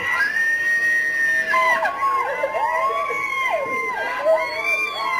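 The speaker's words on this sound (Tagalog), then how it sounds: "Ang dami napalibot mga tao dyan. Tumitili pa eh." A large crowd of fans screams and cheers at an event, with shrill, wavering high-pitched shrieks and whistle-like cries rising and falling continuously over a dense, noisy background.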